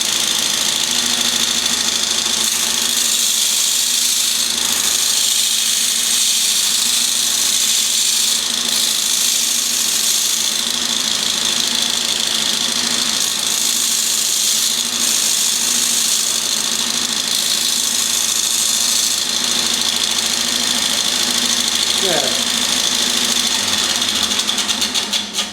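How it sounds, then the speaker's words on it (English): Bench grinder grinding a jack plane blade against the wheel, a loud, steady, unbroken high whine and rushing hiss with a low motor hum beneath, continuing throughout. "So let's turn the machine on and do some grinding."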